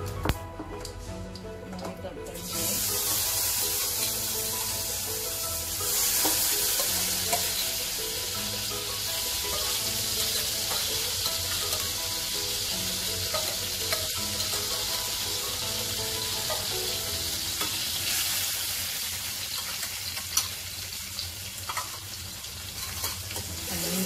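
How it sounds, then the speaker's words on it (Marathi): Hot oil sizzles loudly as cowpea (chavli) pods drop into a tempering with asafoetida and turmeric, then crackles steadily with occasional stirring scrapes and clinks, with a few faint voices in the background. "या फोडणीत आपण ताबडतोब भाजी पण घालू शकतो"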